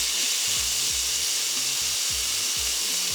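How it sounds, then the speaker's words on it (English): Scotch fillet steak sears in a pan on high heat, giving a loud, steady, close sizzle that runs unbroken throughout, with faint knocks of movement underneath. "We want it to be nice and hot to get a good sear on our steak"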